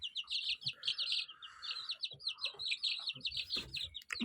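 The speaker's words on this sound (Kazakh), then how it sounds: "Ал мында бізде 2 апталық балапандарым" Two-week-old chicks cheeping in a new coop, a dense run of high, quick chirps from several birds close by, with occasional low clucking underneath.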